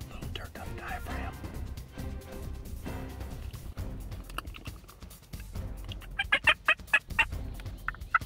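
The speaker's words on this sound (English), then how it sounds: "And he's a hard to get gobbler" Wild turkey gobbler during a hunt, giving rapid gobbling calls near the end, mixed with low whispered talk throughout and rustling outdoor noise.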